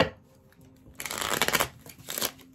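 Tarot cards shuffled close up in two quick riffling bursts, the first longer and the second shorter, after a quiet start with no talking.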